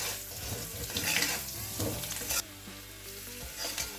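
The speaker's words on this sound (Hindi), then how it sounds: "इन सबको साथ में मिला के अच्छे से भून लेंगे।" Potatoes frying in a kadai with Kashmiri red chili powder, turmeric and salt give a loud, steady sizzle with the crackle of stirring, then a sharp drop to a softer bubbling hiss.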